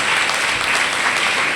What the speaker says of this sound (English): So let us all cheer for them first.